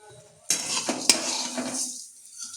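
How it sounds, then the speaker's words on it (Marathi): Food starts frying in a little oil in a pan for a breakfast dish: a sharp utensil clink, then a steady close sizzle with metallic scraping and stirring that fades out after about a second and a half. "थोडंसं तेल ते ओतून घेतलं आणि असं भाजायला सुरुवात"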